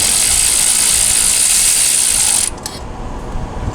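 A hand ratchet tightens the exhaust bolts on a CFMOTO UFORCE 1000 side-by-side, a fast, steady clicking run that is loud and close for a couple of seconds, then drops to quieter, slower clicks.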